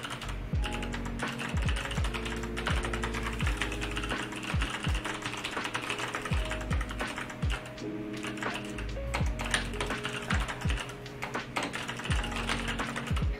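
Typing on a Dygma Raise keyboard: a steady, close stream of crisp key clicks and thocks with irregular rhythm, continuing alone throughout.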